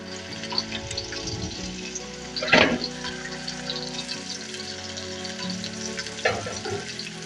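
Onions frying in oil in a sufuria pot with a low steady sizzle, one louder burst of stirring and scraping early on and a softer one near the end, close by with no talking.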